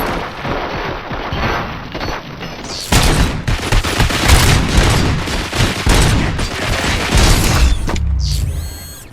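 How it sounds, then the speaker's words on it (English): Sustained gunfire and heavy impacts from a firefight in the video game RoboCop: Rogue City, a dense loud barrage of shots and booms with mechanical clatter, continuing without pause before a brief electronic sweep at the end. "Fire at will."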